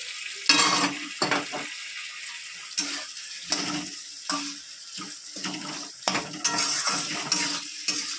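Leftover fish-frying oil added to a pan for cooking live jiol fish, giving intermittent bursts of sizzling mixed with clinks and scrapes of utensils against the pan, close and moderately loud, without talk.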